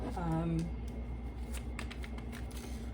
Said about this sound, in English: I tried to shuffle the cards earlier, but I feel like I should shuffle them again.